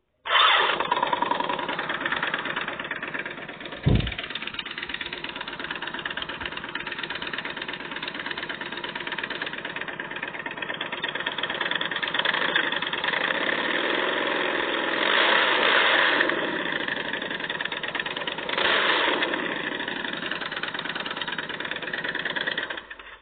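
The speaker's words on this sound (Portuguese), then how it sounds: "A próxima moto que eu vou mostrar pra vocês é a Victory Gunner Base." A Victory Gunner Base motorcycle engine fires up with a sharp start, then idles loud and close in a steady, throbbing rumble for the rest of the clip, with brief revs partway through.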